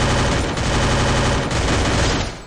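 Rapid automatic gunfire from the video game Free Fire, a loud dense burst of rattling shots that runs continuously before tailing off, with no talk.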